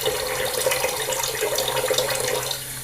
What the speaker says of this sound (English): let me go ahead and rinse off my face a little more completely